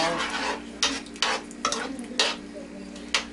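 A spoon stirs a seasoning mixture with black pepper in a pot: about six sharp scraping clinks land at irregular intervals over a soft, steady sizzle, close and moderately loud, with no talking.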